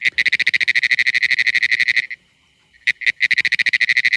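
A played recording of frog calls, likely green tree frogs or upland chorus frogs, gives rapid, steady pulsed croaking that fills the first two seconds, drops to near silence, then resumes after a few brief bursts.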